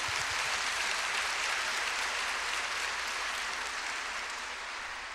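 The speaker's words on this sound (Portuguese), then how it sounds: "Vamos aplaudir a palavra mesmo." A church congregation applauds after a scripture reading, a broad, steady wash of many hands clapping at even volume, easing slightly toward the end with no voices over it.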